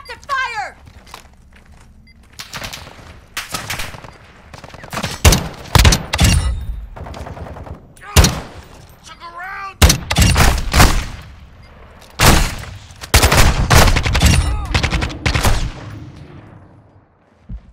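Bursts of automatic gunfire and single shots in the video game Call of Duty: Modern Warfare II, loud and close, with rapid volleys scattered through a tense firefight while players speak over the action.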